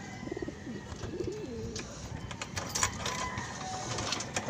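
Pigeons coo in soft, rolling calls at close range, several warbling phrases early on, over a busy background of rustling and faint chirps, with no talk.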